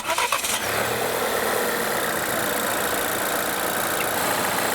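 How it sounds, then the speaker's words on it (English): A Volvo V60 engine cranks briefly and catches after a jump start from a portable jump starter, then settles into a steady, close idle for several seconds with no talk. "and now we can start our vehicle"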